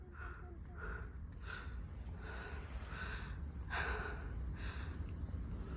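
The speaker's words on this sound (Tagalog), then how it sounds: "Uy, mahiningal-hingal din kami sa hike na to ah." Heavy, rhythmic panting breaths from hikers on the Lung Ha Wan Country trail in Hong Kong, fairly faint, repeating about once a second over a soft background of chirping insects.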